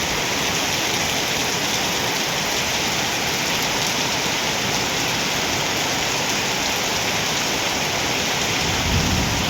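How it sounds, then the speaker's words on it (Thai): Heavy rain pours down in a dense, unbroken roar with rumbling thunder mixed in, loud and steady throughout, with no one speaking. "ฝนตกแล้วพี่น้อง"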